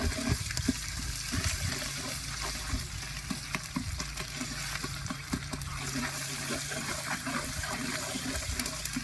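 Ginger garlic paste dropped into hot oil while cooking a simple vegetable curry, a steady close sizzle and frying hiss with scattered crackles, continuous throughout.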